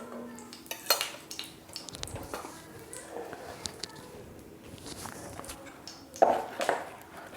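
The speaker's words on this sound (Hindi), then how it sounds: "तो हम पहले तवे पर 1 चम्मच इस तरह से तेल लगा कर देंगे और इसको चिकना कर देंगे चारों तरफ से।" A metal spoon scrapes and clinks against a hot tawa griddle while spreading oil to make moong dal chilla, with irregular scraping strokes and a few sharp taps, and someone talks over the sounds.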